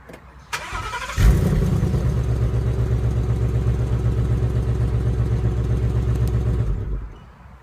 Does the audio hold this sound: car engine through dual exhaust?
yes